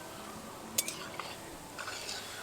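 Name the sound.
stirring semolina sweets frying in oil in a kadai with a spatula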